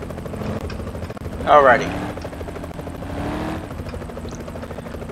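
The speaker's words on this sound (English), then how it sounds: "where is that helicopter going?" A helicopter in the Roblox game ER:LC whirs steadily overhead while a voice talks briefly over the engine drone.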